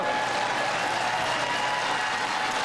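Steady applause from an audience at a State of the Union address, a continuous even wash of clapping throughout with no voices standing out.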